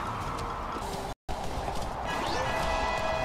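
Horse hooves gallop in the video game Happy Wars, a steady close clatter under game music with a brief dropout partway through.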